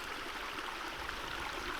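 Clear spring water near Birdlip Hill flows in a soft, steady trickle for a couple of seconds, faint and continuous with no voices.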